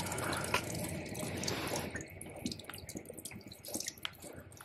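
Water streams and trickles from a drinking fountain in a university engineering building, with soft dripping and splashing as someone drinks, close by and without talk.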